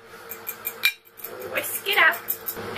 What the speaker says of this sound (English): crack it in a bowl